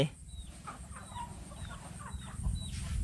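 Several domestic laying hens cluck repeatedly nearby, short rhythmic calls over a steady low background rumble.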